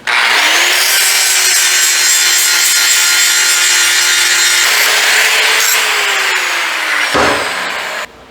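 A power tool grinds or wire-brushes slag off freshly cut steel trailer pieces, a loud, continuous whining abrasive roar held steady for several seconds before briefly cutting off near the end.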